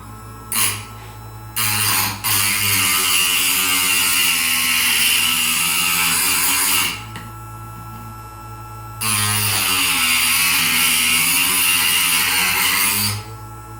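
A Parkside PSS 65 A1 sharpening station grinding a screwdriver runs as a loud, steady motor whine and grinding hiss in two long bursts, with short starts and a pause between them and a low mains hum underneath.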